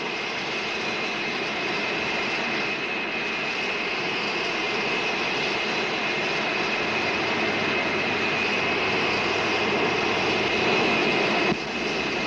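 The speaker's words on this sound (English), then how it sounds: "clear for takeoff" A 1959 jet airliner's engines roaring at takeoff, giving a loud, steady, broadband rush and whine that holds throughout without pause.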